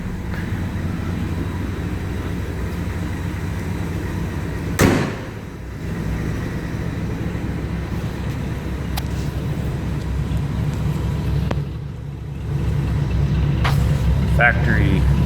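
A 1959 Pontiac Star Chief with a slightly rusty factory dual exhaust idles with a steady, low rumble, broken by a few faint clicks and knocks nearby.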